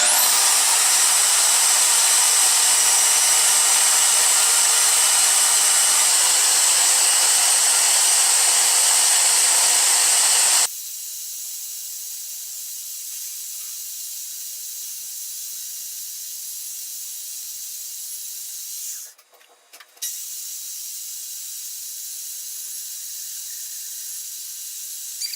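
A Milwaukee portable bandsaw cuts through plate with oil applied, a loud steady hissing, whining cut for about ten seconds that then stops abruptly, leaving a quieter high hum and a brief dip near the end.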